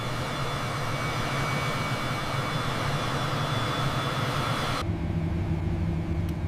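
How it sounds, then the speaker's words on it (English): Small aircraft flying low on approach to a runway at a few hundred feet, a steady loud engine drone filling the whole stretch, with the upper hiss cutting off abruptly near the end as a lower hum carries on. "The aircraft descended to just a few hundred feet."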